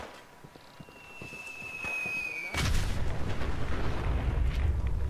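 Enemies firing rockets in Fallout 4: a rising whistle, then a sudden loud blast that becomes a sustained heavy rumble of explosions and gunfire, with faint voice in the background.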